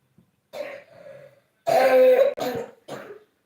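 A feverish child's coughing fit, several harsh close coughs in quick bursts with short gaps between them, loud and clear.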